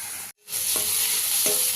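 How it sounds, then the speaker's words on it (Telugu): Onions sizzle steadily in a hot pan for an egg curry, with a brief break, then continuous loud frying and a couple of scraping stirs of a spoon against the pan. "అడుగంటుకోకుండా మధ్య మధ్యలో కలుపుకుంటూ ఇలా ఫ్రై చేసుకోవాలి"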